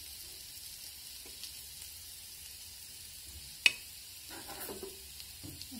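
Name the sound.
surmai fish frying in oil on a tawa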